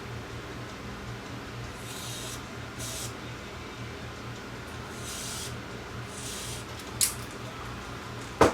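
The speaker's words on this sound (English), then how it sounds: "I'm just going to get into the switch here, give it a shot of cleaner" Short bursts of contact cleaner sprayed into a switch inside an Emerson EC1320 TV/VCR combo, a few brief hissing puffs over a steady low electrical hum, with a couple of sharp clicks near the end.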